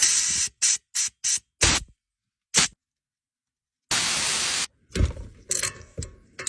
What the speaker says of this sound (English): You always want to blow that out of there first before you pull the plug